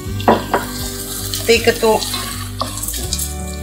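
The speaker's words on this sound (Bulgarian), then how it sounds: "Пържваме леко ориза." Rice being lightly fried and stirred in a pan, with the lamb already cooked, for an Easter dish: steady sizzling under scraping spoon strokes and a few clinks of utensil on the pan, close by, with brief words spoken.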